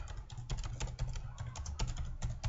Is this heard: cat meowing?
no